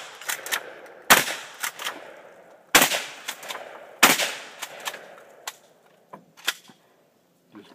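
Gunshots at a three-gun shooting match ring out in sharp, loud bursts, several quick shots grouped in three clusters, then a few scattered fainter cracks as the string winds down.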